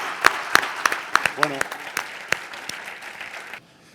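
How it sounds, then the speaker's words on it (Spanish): Audience clapping at a sports traumatology conference, a few sharp distinct claps that swell into brief applause with a short spoken word, then fading to quiet near the end. "Un gran aplauso."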